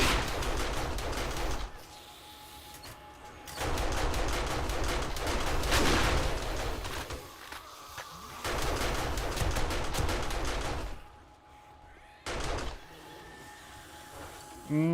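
Bursts of rapid automatic gunfire in 7 Days to Die, several loud sustained volleys separated by short pauses, with a few sharper single shots near the end.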